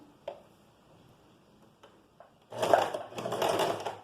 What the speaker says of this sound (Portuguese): E assim já tá pronto para ir para a máquina. Então, a gente vai começar a costura aqui pelo centro das costas.